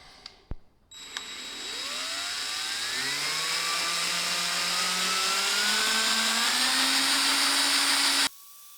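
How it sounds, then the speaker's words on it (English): A power tool drives a self-tapping screw into 9mm steel angle clamped to a bench: a couple of clicks, then a loud, close, steady motor whine that climbs in pitch for about seven seconds before cutting off abruptly. "what we want to do is have a look now and see how the self-tapping screws work"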